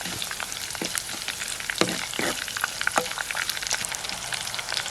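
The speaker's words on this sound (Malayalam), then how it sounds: "നമുക്ക് ഇച്ചിരി കരിയാപ്പിട്ടു അത് നന്നായിട്ടൊന്ന് മൂക്കണം" Green chillies and curry leaves fry in hot oil, a dense, continuous crackling sizzle with sharp pops and spatters, close and loud with no talking.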